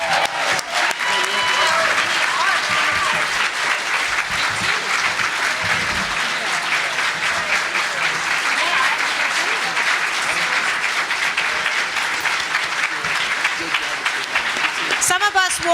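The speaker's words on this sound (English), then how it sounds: "give them a round of applause" A panel audience breaks into loud, sustained applause that fills the room for about fifteen seconds, dense clapping with some crowd noise, fading only at the very end.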